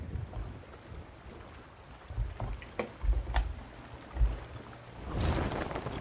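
A sailing ship moves at sea in the video game Sea of Thieves, with wind and lapping waves washing under several sharp creaks and knocks of the hull, and a swelling rush of surf near the end.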